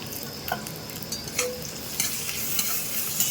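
Garlic paste fries in hot oil after onions for a chicken chotpoti, giving a continuous nearby sizzle broken by sharp stirring clicks and spatula scrapes, with nobody talking.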